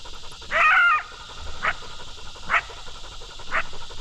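A coyote out in the field gives a drawn-out yelping bark followed by three short, sharp yips spaced about a second apart, moderately close over faint background hiss.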